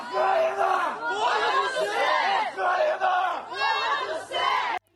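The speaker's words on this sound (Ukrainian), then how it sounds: "Натовп кричить та вітає одне одного" A crowd shouts and cheers in waves of overlapping voices, loud and close, as people wait for buses bringing freed prisoners of war to a hospital during a prisoner exchange, with a brief drop near the end.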